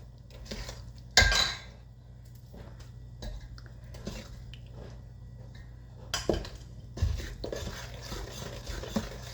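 A utensil scrapes and knocks around a mixing bowl of cocoa sheet cake batter in irregular close bursts, with a couple of louder clanks and quieter scraping between, against a low steady hum.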